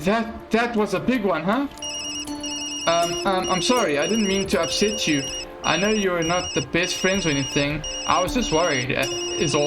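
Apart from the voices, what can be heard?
phone ringing in video game Tokyo Dark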